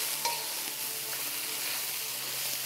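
Sliced red and green peppers stir-frying in a pan, giving a soft, steady close sizzle with faint stirring, no voices.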